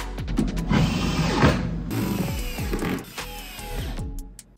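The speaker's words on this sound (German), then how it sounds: "bevor wir ihn dann einladen, muss der Sarg natürlich auch zugeschraubt werden." Screws being driven into a coffin lid to fasten it shut, a loud whirring power screwdriver with rising and falling motor pitch and ratcheting bursts, close by, no talking.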